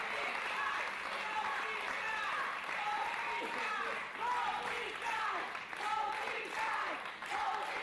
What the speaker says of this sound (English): listen to the crowd showing their support for a great effort